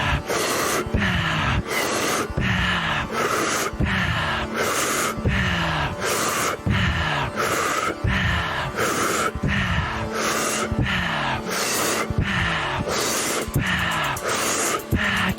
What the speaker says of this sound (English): Let us keep on breathing.